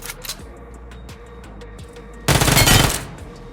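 An Uzi fires in PUBG Mobile (BGMI) as a single loud, dense automatic burst of about a second, preceded by scattered faint clicks and small game noises.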